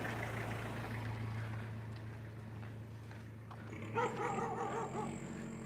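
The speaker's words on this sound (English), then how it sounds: "I mean street dogs, and Thailand has a bunch of them." Street dogs in Thailand bark and yip outdoors at moderate distance, short bursts rising near the end over a low traffic hum, with a faint whimper; no speech.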